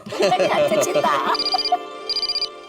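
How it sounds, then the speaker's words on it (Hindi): A telephone rings with an incoming call in a Taarak Mehta Ka Ooltah Chashmah household scene, two short bursts of electronic trills separated by a pause, with people talking over the first part. "लो ओयोर का फोन आ गया"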